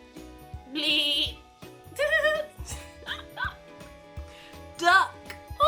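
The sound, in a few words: person imitating a goat bleating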